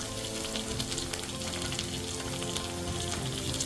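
Chopped cabbage, capsicum and carrot sauté in a hot pan for a vegetable Manchow soup, a loud, steady, close sizzle with a dense crackle that never lets up.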